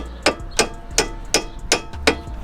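Six sharp metallic hammer taps land on a front brake component at an even, quick rhythm, close up and loud, with no talking.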